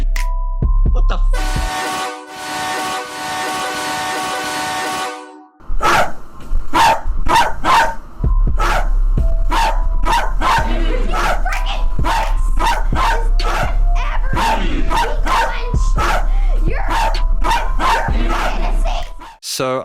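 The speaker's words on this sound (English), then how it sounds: "The dog barking is one thing" Repeated loud dog barks used as a rhythmic element in a song, sharp barks punching in steadily over a heavy bass-driven beat after a sustained synth intro, continuing for most of the passage.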